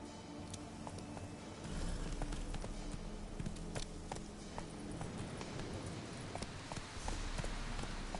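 The horse Roach galloping in The Witcher 3, with rapid rhythmic hoofbeats thudding steadily over a low rumble at close range and no talk.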